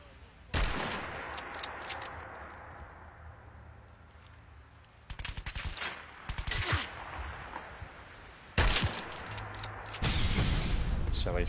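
Gunfire in the modded video game Fallout 4 comes as several separate bursts of rapid shots, loud and sharp, with quieter pauses and game ambience between them.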